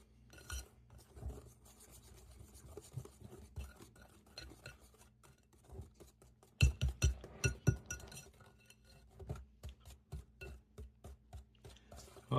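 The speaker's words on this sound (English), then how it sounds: "Stir that up a little bit." Pecan bread batter stirred in a bowl, a utensil repeatedly scraping and clinking against the sides in an uneven rhythm, growing louder and faster midway, close and alone.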